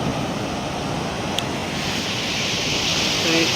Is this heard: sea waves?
yes